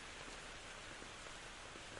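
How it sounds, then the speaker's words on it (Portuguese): Steady, fine rain falling continuously as a radio-drama sound effect, an even wash of soft hiss with no distinct drops standing out, quiet and unbroken throughout. "A chuva me atingiu como um tapa."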